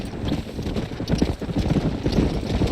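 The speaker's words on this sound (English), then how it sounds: "Look at these here horses." Horses trotting in Red Dead Redemption, a steady clip-clop of hooves at close range, continuous and fairly loud with no talk over it.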